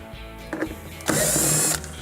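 A power driver backs out quarter-inch screws from a Whirlpool washer, with a short whir and clicks, then a loud steady high-pitched spinning burst for most of a second before stopping.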